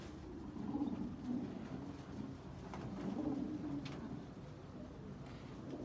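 Pigeons coo steadily in a homestead loft, several birds murmuring in low overlapping rolls at close range, with a few faint rustles in the background.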